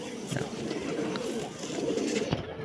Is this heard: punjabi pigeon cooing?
yes